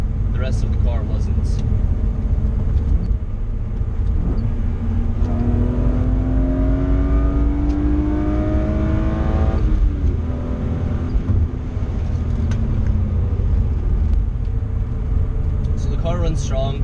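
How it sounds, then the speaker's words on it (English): A BMW E36 M3 engine runs steadily, then revs up and falls back, with a loud, continuous, close-up drone that rises in pitch and settles again. "Car runs strong, it pulls very nicely."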